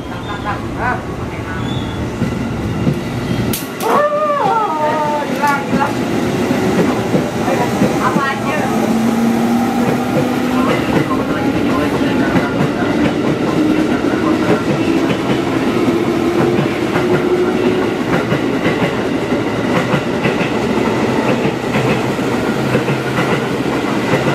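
A KRL commuter train passes through Telaga Murni station in Indonesia: a loud, steady rumble with rhythmic clickety-clack of wheels over rail joints, a long rising wheel tone and squeals. Faint voices can be heard in the background.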